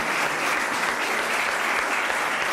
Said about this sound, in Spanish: merecen un reconocido homenaje y un merecido aplauso